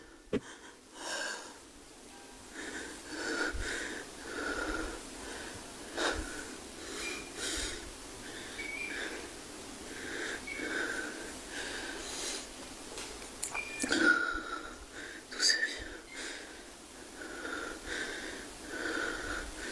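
Heavy, ragged breathing with wheezy, snorting inhales and exhales repeats steadily for about twenty seconds, close and fairly quiet, with no talking, in a scary recording.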